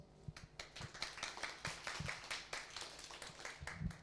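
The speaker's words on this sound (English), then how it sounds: "Anastasia, please, your applause." Clapping from an audience at a women-in-hardware event as a participant is welcomed, a steady patter of many hands that stays fairly faint and even throughout.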